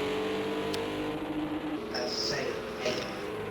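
A Cadillac GT3 race car at speed around Oulton Park International circuit in a GT3 sprint race, a steady engine drone with shifting pitch heard beneath commentary talk.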